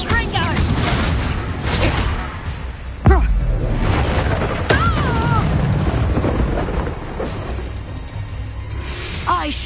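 A Confringo fire-blast spell detonates in Hogwarts Legacy, a sharp booming burst over a dense, continuous backdrop of battle noise, with whooshing magic and further blasts around it.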